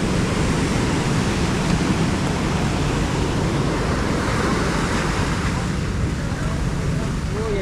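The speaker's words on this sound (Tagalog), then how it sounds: "Ang lakas ng alon." Strong sea waves roll near the Puerto Princesa underground river in Palawan, Philippines, as a loud, constant wash of surf mixed with heavy wind rumbling against the microphone.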